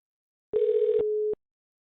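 A single telephone ringback tone sounds on an outgoing call that goes unanswered: one steady electronic ring lasting under a second in otherwise silent surroundings.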